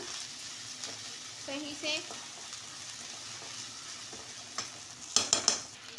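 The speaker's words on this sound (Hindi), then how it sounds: "आलू फ्राई करेंगे पहले हम" Small potato cubes fry and sizzle steadily in a pan while being stirred, with occasional clinks of a spoon on metal and someone speaking briefly over the cooking.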